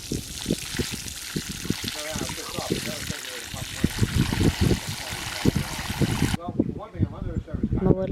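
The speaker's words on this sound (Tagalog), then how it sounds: "Lagyan natin ng tubig." Water pours and splashes steadily into a deep hole for planting grapes, a close, continuous gush, with someone talking over it throughout.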